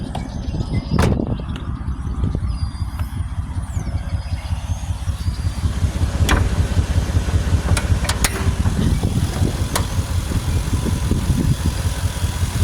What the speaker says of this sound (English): look how smooth the engine run